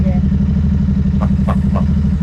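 A motorcycle engine idles close by with a steady low thrum, and a few short vocal sounds break over the drone.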